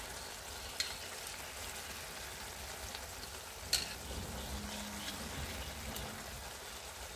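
Soaked dal added to a hot pan, a quiet continuous sizzle with a couple of sharp utensil knocks against the pan, no voices.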